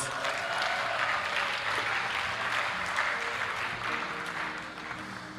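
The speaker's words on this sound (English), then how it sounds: "Can we give them a big round of applause?" Sustained applause from a lecture audience fills the hall, a dense, steady wash of many hands clapping at once that stays loud throughout and eases slightly toward the end, with no talk over it.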